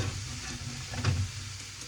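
Food sizzling in a frying pan while being stirred and mixed, a steady close hiss of frying with soft scraping movements and a slightly louder stir near the middle, no talk.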